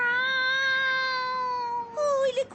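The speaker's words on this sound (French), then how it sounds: "il y a un pauvre petit chat qui a besoin de nous?" A cat stuck up high meows in a long, drawn-out plaintive cry, close and loud, ending with a shorter rising call.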